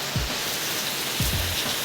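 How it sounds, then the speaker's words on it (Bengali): Rain falls steadily on surfaces, a constant hiss of drops with a few low thumps, at moderate loudness and with no talk. "বৃষ্টির মতো বৃষ্টি হতে এসছে।"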